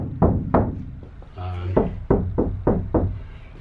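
Knuckle knocks on a Sprinter camper van panel fitted with sound deadening, about eight dull, damped thuds in an uneven rhythm, close by, with a brief spoken voice partway through.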